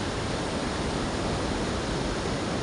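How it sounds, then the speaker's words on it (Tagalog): Large ocean waves break and wash onto a beach with clear water, a steady loud broadband roar of surf filling the whole stretch with no voices. "Pero ngayon, medyo malaking alon."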